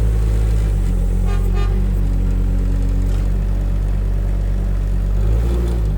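The engine of a PB50 machine runs with more throttle while the hydraulics work, giving a loud, steady low rumble and drone that rises slightly near the end, with no talking.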